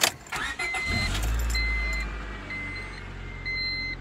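A 1998 Honda Civic EX cranks and its engine catches, settling into a steady low rumble close by, with a few high electronic chime-like beeps sounding over it.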